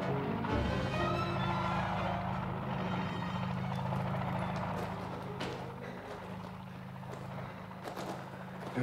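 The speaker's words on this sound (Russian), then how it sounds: "Вертолет." A helicopter's rotor thumps in a low, steady chop, fairly close and gradually fading slightly, with faint rustling and scattered ticks around it.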